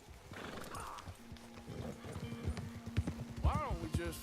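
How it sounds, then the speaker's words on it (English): A white mare in the video game Red Dead Redemption 2 clip-clops along and then lets out a clear, rising whinny toward the end, with a voice talking over the hoofbeats. "Mi yegua está más blanca que tu caballo, Dodge."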